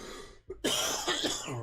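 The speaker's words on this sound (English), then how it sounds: "I'm gonna be coughing in your ear." A short, close cough follows a brief throat sound, then rough breathy clearing trails off into quiet.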